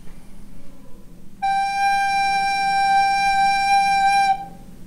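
A recorder sounds a sustained G, one steady held note that enters abruptly after a quiet moment, rich in clear overtones, close and loud, alone with no talk.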